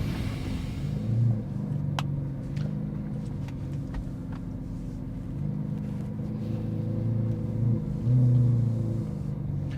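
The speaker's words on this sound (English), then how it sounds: "that's the sound of the engine that it makes" Lamborghini engine heard from inside the cabin while pulling away, a deep steady rumble that swells under acceleration with a couple of louder surges, no talk over it.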